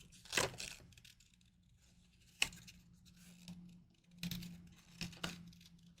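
Paper snipped with scissors while trimming a spring floral greeting card, a few short separate cuts spread across a quiet stretch, close and fairly soft.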